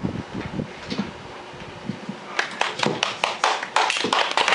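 A small live audience at a comedy show breaks into scattered clapping that builds and grows louder toward the end, after a quieter stretch of light taps and shuffling.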